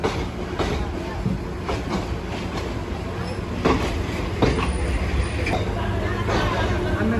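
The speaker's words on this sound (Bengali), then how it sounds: "আমাদের ট্রেন তার নির্ধারিত যাত্রা বিরতি শেষ করে আবারও চলতে শুরু করলো।" Mohanganj Express passenger train pulling out of Barhatta station after a stop at dusk, rumbling steadily with rhythmic wheel clacks and faint squeals, accompanied by a murmur of passenger chatter.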